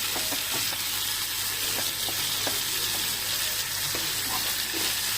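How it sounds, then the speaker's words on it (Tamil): Chicken pieces deep-frying in oil in a small pan, with a steady, dense sizzle and bubbling hiss throughout and occasional soft pops. "ஒன் சைட் நல்லா ஃப்ரை ஆகணும் எண்ணெயில். இன்னும் கூட டீப் ஃப்ரை பண்ணணும் நம்ம இதை."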